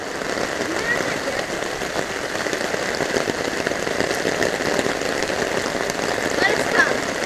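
Heavy rain pours steadily in a yard where floodwater runs through like a river, a dense continuous hiss with faint voices now and then.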